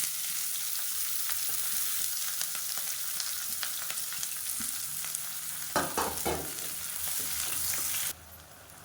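Sliced onion frying in hot oil for biryani, a steady close sizzle with a few stirring scrapes and bumps near the end before the hiss drops sharply.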